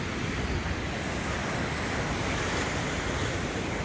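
Beach surf washing steadily at the water's edge on a hot spring day, a continuous loud wash of waves with wind buffeting the microphone and no talk.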